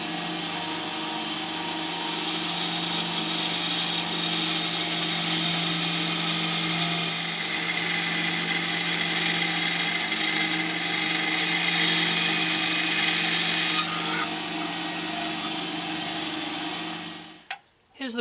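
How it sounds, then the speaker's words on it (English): A hobby Shopak bandsaw with a narrow quarter-inch blade cuts quarter-sawn wood into guitar braces, giving a steady, loud whirring hum that runs for a long stretch and then winds down at the end. "we can go back to the bandsaw and cut these up into the braces we need."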